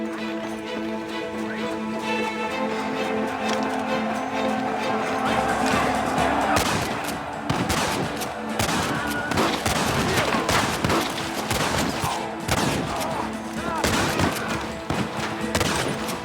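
Gunfire and battle noise in the video game Red Dead Redemption, with scattered loud shots and sharp cracks ringing out over a steady musical bed, growing denser and more chaotic in the second half.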